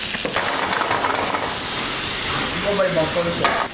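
Soy sauce hits hot oil in a pan with a close, steady hissing sizzle and a bit of stirring. The hiss continues for several seconds and fades slightly near the end, with no one talking.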